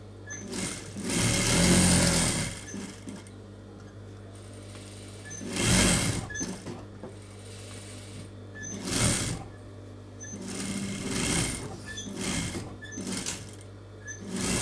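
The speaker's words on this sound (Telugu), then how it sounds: "ఇప్పుడు జస్ట్ ఒక డమ్మీ స్టిచ్ మాత్రం ఇది." A sewing machine runs a dummy stitch on a blouse in several short, rattling bursts separated by pauses, close and fairly loud.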